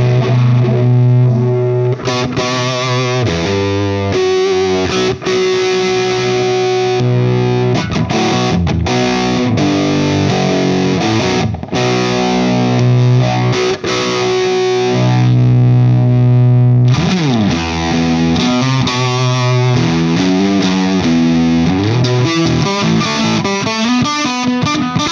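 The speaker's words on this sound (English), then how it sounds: "here's some cool sort of static phaser tones." Distorted electric guitar playing chords and riffs through a Morley Volume Phaser pedal set to static phaser tones, sweeping and swirling, loud and continuous with no talking.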